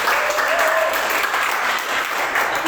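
Congregation applauding during a church service, a loud, dense, continuous burst of many hands clapping close by, with voices faintly audible beneath it.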